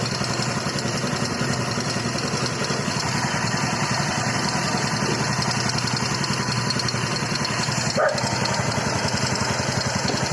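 A Rusi motorcycle engine with a modified spring idles steadily at around 900 RPM, a continuous low, even throb that holds for the whole stretch with a brief knock near the end.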